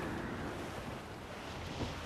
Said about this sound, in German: Der Wind ist eine steife Brise